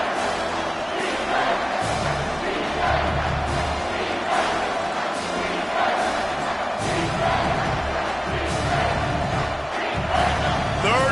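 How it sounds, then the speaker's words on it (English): A packed football stadium crowd roars on third down, a loud, sustained wall of yelling and cheering with no letup. "this crowd is tearing the lid off this place"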